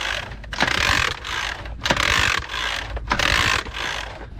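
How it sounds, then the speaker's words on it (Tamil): Hand pump forcing oil through an outboard boat engine, a steady mechanical ratcheting and clanking in four repeated strokes with short pauses between, close and fairly loud with no talk. "கொஞ்ச நேரம் இப்படி பம்ப் பண்ணிட்டு"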